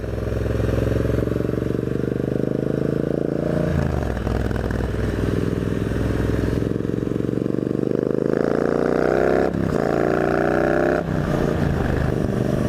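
A Triumph Bobber engine drones loud and steady at about 3,000 RPM cruising on a highway at 100 km/h, its pitch rising and dipping with a few shifts in load amid wind rush.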